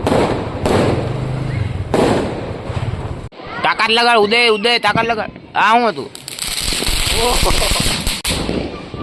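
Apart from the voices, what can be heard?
Diwali firecrackers bursting outdoors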